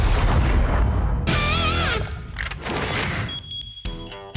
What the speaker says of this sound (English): the double shot with both guns simultaneously